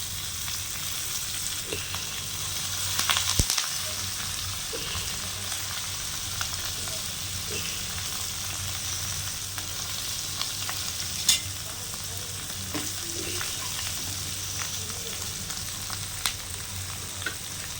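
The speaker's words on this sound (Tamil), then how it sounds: "நம்ம இப்போ நெத்திலி கருவாடு போட்டுக்கலாம்" Dried anchovy (nethili karuvadu) sizzles steadily in a hot pan, with a continuous close frying hiss and occasional clinks of stirring throughout.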